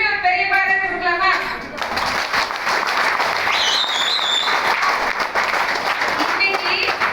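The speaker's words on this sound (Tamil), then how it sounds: "சோ எல்லாருக்கும் திரும்பி ஒரு பெரிய பாராட்டு கொடுக்கலாமா?" An audience breaks into sustained applause, dense clapping continuing throughout at a steady, loud level, with voices mixed in the crowd noise.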